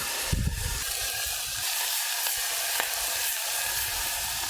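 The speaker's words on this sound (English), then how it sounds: "start to saute half of a diced yellow onion and a minced clove of garlic" Half a diced yellow onion and a minced garlic clove sauté in hot olive oil, making a loud, continuous sizzling hiss with a brief stirring scrape near the start.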